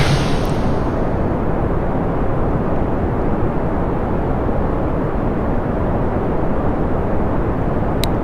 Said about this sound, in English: I wanted it full throttle for when we do launch the solid rocket booster.